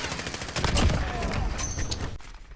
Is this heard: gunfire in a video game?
yes